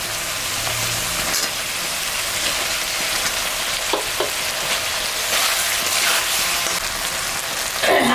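Potatoes frying in a pan with spices, turmeric, salt and tomato for a fish curry, a steady close sizzle with a few stirring knocks and scrapes throughout.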